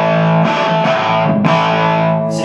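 A distorted electric guitar chord played through a Marshall Class 5 amplifier, loud sustained crunchy ringing struck twice, the second strum at about 1.5 seconds and ringing out to the end.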